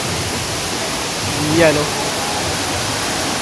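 Steady broadband rush of water pouring from a roof at Desert Falls, a continuous close wash with a brief voice cutting in partway through.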